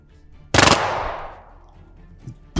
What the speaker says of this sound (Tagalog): Putok ng mga baril yun ah.